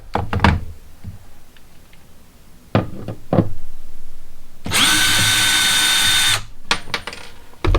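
A cordless drill bores into sheetrock in one loud, close whine of about two seconds, preceded by several sharp knocks and handling thuds and followed by more clunks as the tool is set down.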